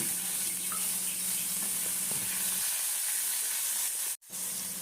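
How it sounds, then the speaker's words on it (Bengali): Chicken pieces frying in white oil in a pan, a steady broadband sizzle running almost continuously with a few small crackles, close and moderately loud, with a brief dropout near the end before the sizzle resumes. "সাদা তেলে চিকেনের টুকরোগুলো আমি ভেজে নিচ্ছি"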